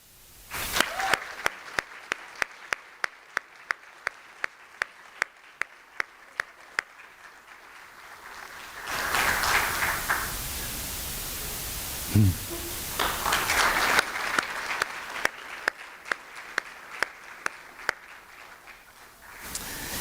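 Audience applause for outstanding educators at a distinguished lecture event, steady clapping from a large crowd swelling louder and denser toward the middle and then tapering with scattered individual claps.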